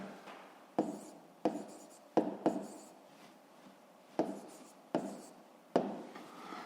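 Handwriting on paper: short scratchy strokes come in separate bursts about every second, each starting with a tap and trailing off, close and quiet with no voices.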